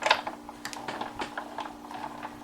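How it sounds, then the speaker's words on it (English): A die cutting machine feeds a card through with a steady series of small ticking, clicking mechanical sounds over a low constant hum, close and fairly quiet. "run this back through the die cutting machine"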